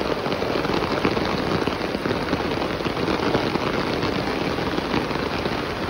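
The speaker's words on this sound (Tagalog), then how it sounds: "Ulan na naman." Steady rain pours down without a break in Davao, a dense, even hiss that stays loud and close throughout with no voices.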